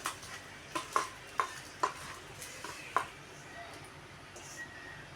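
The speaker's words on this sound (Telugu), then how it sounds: "ఇలా మొత్తం వేసేసి మొత్తం కలిపేసుకుందాం" Masala mango pickle (avakaya) mixture being stirred in a bowl, a handful of sharp scraping clinks spaced roughly half a second apart, close and fairly faint, with no talk.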